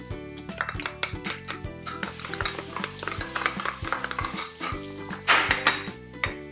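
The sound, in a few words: onions and garlic sautéing in a pan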